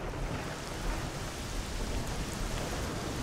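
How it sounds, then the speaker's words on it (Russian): Steady rain falls in S.T.A.L.K.E.R., a soft, even hiss of drops pattering on the ground, continuous and fairly quiet, with no voices. "Пошел дождь"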